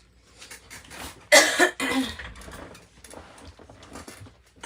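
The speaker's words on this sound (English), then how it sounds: "sorry about the cough here" A single harsh cough bursts out close up, followed by a rougher throat-clearing rasp, with a faint background hum and no speech around it.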